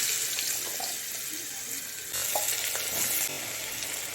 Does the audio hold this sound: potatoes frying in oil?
yes